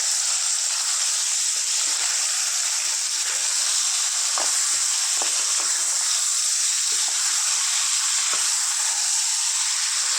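About a kilogram of cleaned chicken pieces fry in hot oil for a spicy chicken curry, a loud, constant hissing sizzle with occasional sharper crackles, alone and close for the whole ten seconds.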